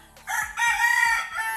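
A rooster crows loudly and close by in a Zamboanga, Philippines yard, one full drawn-out call with a few low clucks underneath.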